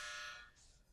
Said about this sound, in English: There's literally a buzzer in the background.